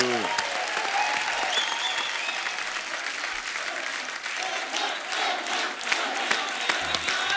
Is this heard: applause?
yes